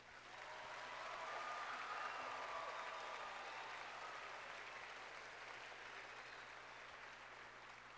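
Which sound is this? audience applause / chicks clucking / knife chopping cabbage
audience applause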